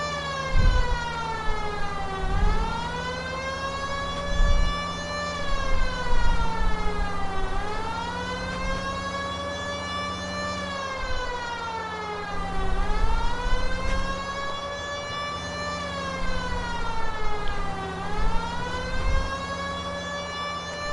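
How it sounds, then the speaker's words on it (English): A police car siren in the video game L.A. Noire wails loudly and continuously, rising and falling in long sweeps about every five seconds over a low rumbling engine hum. "Why don't you use the siren?"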